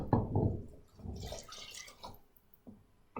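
Chicken stock made from a stock cube and boiling water being poured into a soup pot with vegetables, in a few short splashing bursts and gurgles, fairly quiet and close.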